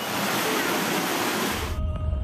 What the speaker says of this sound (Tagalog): pinasok na ng rumargas ang baha ang bahay na ito sa barangay Talon 3